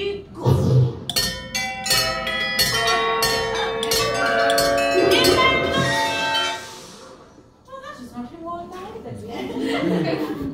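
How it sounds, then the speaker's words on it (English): A bell hanging over a shop door rings with a bright, sustained metallic tone that rises and decays over several seconds, with people talking and chuckling around it. "you see the bell over the door. I want you to ring it only one time."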